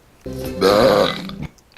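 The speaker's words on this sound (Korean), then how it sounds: "멧돼지 푼바가 트림을 했고요" Pumbaa, the cartoon warthog from The Lion King, lets out a long, loud, rumbling burp in a music video scene, one sustained belch that swells in the middle and cuts off sharply.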